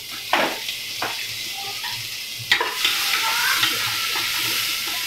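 Onions for sambar sauté in a pan with a loud, bright sizzle that swells after a sharp stirring scrape, with a few more scrapes along the way.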